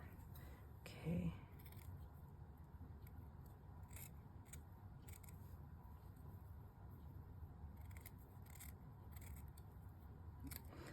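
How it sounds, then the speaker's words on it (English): A pair of Debbie snips cuts through craft netting in a few quick, quiet snips near the start, followed by soft scraping and handling noises under a steady low background hum. "I'm going to get my Debbie snips here."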